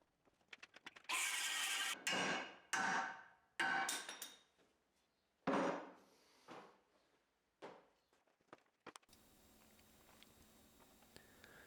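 A cutoff wheel cuts steel while working on a John Deere 265 loader, heard as several loud, harsh bursts of grinding, each a second or so long and separated by pauses, ending in quieter background noise.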